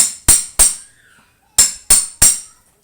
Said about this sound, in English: You can also just use this socket